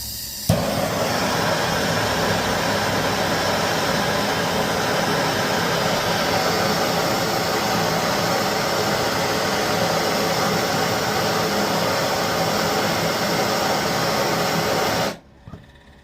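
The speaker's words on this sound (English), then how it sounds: "Get my trusty propane torch." A propane torch flame roars steadily and loudly as it toasts a cigar, a continuous broadband hiss lasting about fifteen seconds before cutting off abruptly.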